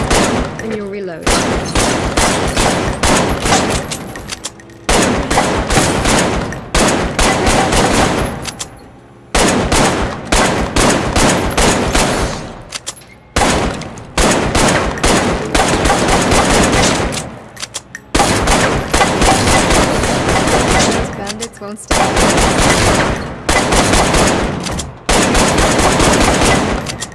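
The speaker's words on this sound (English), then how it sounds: "fire at the targets and get a feel for it" Loud, rapid gunfire at targets in the VR shooter Arktika.1, long sustained bursts of automatic shots repeated five or six times with brief pauses between them, close and dominant.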